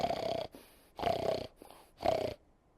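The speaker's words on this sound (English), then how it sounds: "Can you hear him snore?" Three rhythmic snores about a second apart, each a raspy, buzzing breath with short quiet gaps between, close and clear with no talk.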